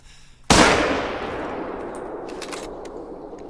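A single loud rifle gunshot fired in the hunting game The Hunter: Call of the Wild cracks sharply after a brief quiet moment, then rolls into a long, slowly fading echo that lingers over faint background ambience.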